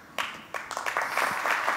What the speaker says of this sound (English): I guess you should really give yourselves a round of applause